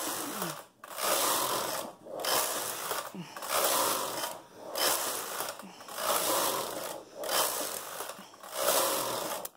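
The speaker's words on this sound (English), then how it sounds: "So we're knitting a tube now, a sock that will not require any seams." A sock knitting machine works a seamless tube in regular mechanical bursts, each whirring pass lasting about a second and separated by short pauses, with a steady clattering rhythm close by.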